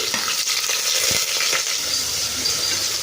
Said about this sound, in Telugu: ఆనియన్స్ లైట్ గోల్డెన్ కలర్ వచ్చే వరకు వేయించుకోవాలి